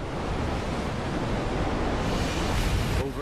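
Waves churning on a choppy, overcast sea, a steady broadband wash of surf and wind noise that rolls continuously without pause, close and fairly loud throughout.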